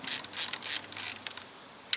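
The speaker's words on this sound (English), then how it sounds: "Then we're going to take a 10mm, and there's only one bolt on each coil pack." A ratchet with a 10mm socket clicks in quick, close bursts while loosening a coil pack bolt on a 2004 Pontiac Vibe / Toyota Matrix engine, then a few final clicks after a pause.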